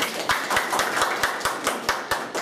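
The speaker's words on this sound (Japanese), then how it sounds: "皆さん拍手お願いします。" Seminar audience clapping in a room before an investment talk, a crowd of hands applauding together with sharp, rhythmic claps at roughly even intervals, fairly close and steady throughout.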